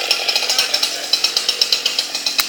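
A Husqvarna chainsaw starts up on half choke during ash felling, its engine running loud and close with a rapid, even pulsing throb.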